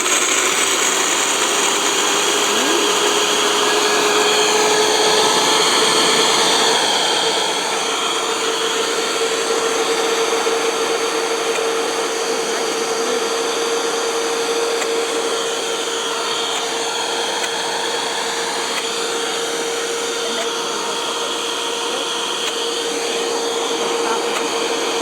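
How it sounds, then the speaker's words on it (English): Kitchen mixer motor running steadily at a higher speed while preparing a treat, a continuous whirring drone with a faint tonal hum, close and fairly loud throughout with no talking. "now you can turn the motor up."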